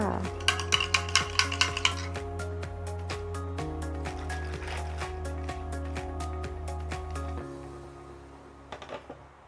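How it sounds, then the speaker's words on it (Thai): A caramel milk drink with fresh milk is stirred to mix it, starting with a quick run of close, rapid clinks and scrapes that then settle into fainter swishing, all over steady background music. "คนผสมให้เข้ากันเลยนะคะ"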